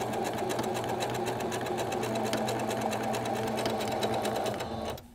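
Sewing machine stitching quilt binding in a straight line, a constant rapid close-up whir with a fine rhythmic pulse, running unbroken until it stops at the very end.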